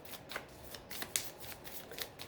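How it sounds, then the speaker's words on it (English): Oracle cards from an Island Time Wellness deck being shuffled by hand, a soft, steady papery riffling with small flicks and snaps, close and quiet with no talking. "We're going to pull a couple of these Island Time Wellness Oracle cards for you."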